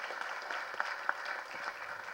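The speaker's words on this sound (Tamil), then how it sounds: "நல்ல மிகப்பெரிய கரகோஷம் கொடுங்க, இந்த அரங்கமே அதிர மாதிரி கொடுங்க" An audience at a film audio launch event claps together in a steady ripple of applause. It sounds moderately distant and even, with a couple of sharper individual claps standing out and no talk over it.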